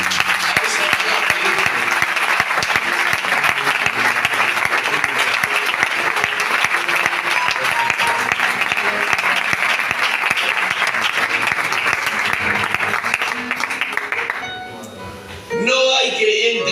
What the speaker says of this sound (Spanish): Dale el mejor aplauso que tengas a esa palabra.